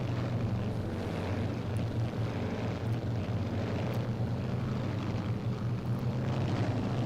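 Twin piston engines of a B-26K Counter Invader throttling up for takeoff in the Strike Fighters 2 flight game, a steady, loud, droning propeller roar that holds evenly throughout.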